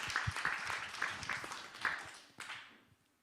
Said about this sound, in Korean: 우리 아이들에게 한번 우리 격려 박수 한번 칩시다